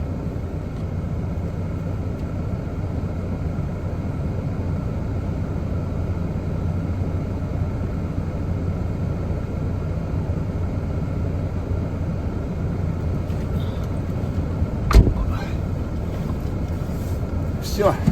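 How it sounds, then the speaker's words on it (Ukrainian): A car engine idles steadily with a continuous low rumble that holds through the whole stretch, with a brief sharp knock near the end. "Все, обороти впали в машині,"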